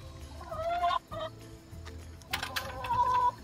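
Domestic hens calling, a few harmonic squawking clucks in short bursts, close and fairly loud over a steady low background hum, with no talk.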